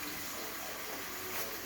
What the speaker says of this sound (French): On va rajouter quand même un petit fond d'eau.